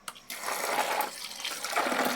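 Potatoes and peas rinsed in a pot of water, a steady splashing swish of water that starts abruptly and continues alone, fairly close and moderately loud.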